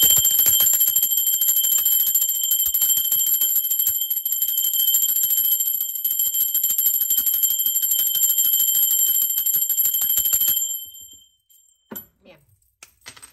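A small ringing bell opens a tarot reading. It gives a sustained, bright, shimmering tone for about ten seconds, then cuts off sharply, followed by a few faint knocks and handling noises.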